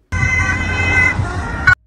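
Fire truck sirens arriving at a school shooting in Austria, a loud continuous wail over a rumbling engine that cuts off abruptly near the end, with no talk.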